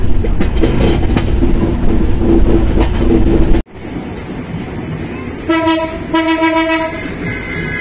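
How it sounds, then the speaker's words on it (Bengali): The Chilahati Express passenger train departs Ishwardi bypass with a loud steady rumble and rattle of carriages, then the sound cuts to a clearer run where its horn sounds in two long tonal blasts. "এগারোটা বেজে 5 মিনিট ঈশ্বরদী বাইপাস থেকে চিলাহাটি এক্সপ্রেস ছেড়ে দিল এখন।"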